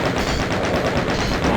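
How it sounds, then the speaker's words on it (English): A chaingun fires in DOOM II as a loud, rapid, unbroken stream of shots, close and dense for the whole stretch. "I guess I'll just chain gun you"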